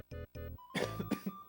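A person with a lingering cough from being unwell lets out a short series of close, harsh coughs, two voiced rasps followed by several sharper bursts, with no talking.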